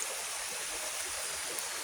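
Spring water flowing from a stream in a rural countryside setting, a steady, even rush of running water filling the whole short stretch, close and moderately soft, with no voices.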